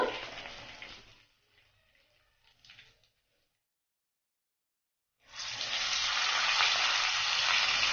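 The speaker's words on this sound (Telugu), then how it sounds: "అన్నీ కూడా ఈ మాదిరిగానే వేయించుకుందాము" Koramenu river fish frying in oil, a soft sizzle that fades into near silence, then returns as a louder, steady crackling fry, close by with no voices.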